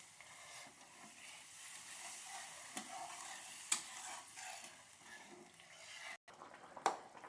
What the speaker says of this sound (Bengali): দেখুন ঝোলটা অনেক ফুটে উঠেছে